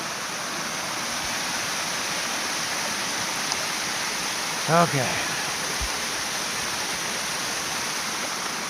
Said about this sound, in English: look how fast that water's going